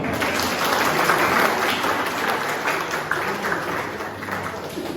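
Steady, sustained applause from an audience after a performance at an Independence Day event at a Tibetan settlement office in Bir, India, a dense even clapping crowd heard alone at moderate distance.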